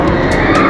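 A brief, loud mechanical whoosh of the Tron motorcycle roller coaster at the Magic Kingdom speeding past, with a rising-and-falling roar and bursts of hiss.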